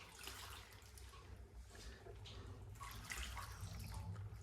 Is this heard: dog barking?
no